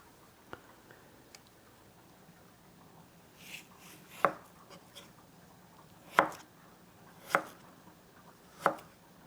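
A knife chops food into small pieces on a cutting board, a handful of spaced, crisp thuds growing more regular toward the end, close but fairly quiet against a soft background, with no speech.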